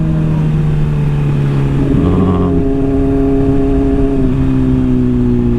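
A Honda CBR600RR motorcycle engine runs loud and close with a steady, humming drone. Partway through, the pitch shifts briefly as it revs, then it settles back into an even tone.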